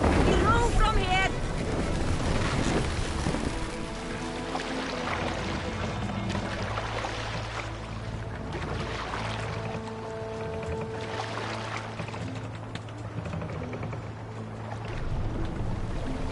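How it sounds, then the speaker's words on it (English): Oars working a Viking longship in Assassin's Creed Valhalla: a steady wash of water and hull noise runs throughout, with low droning tones and a voice calling out over the rowing. "Let the sail out! We row from here!"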